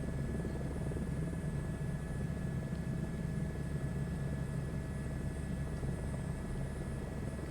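Simulated helicopter flying over the Grand Canyon in Microsoft Flight Simulator 2024, a steady dense rotor and engine drone, loud and unbroken throughout with no talking.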